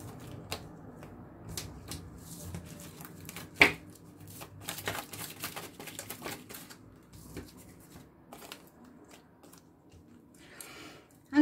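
Oracle cards shuffled by hand at close range, a quiet run of crisp riffling and soft slapping clicks with one sharper snap, no talking.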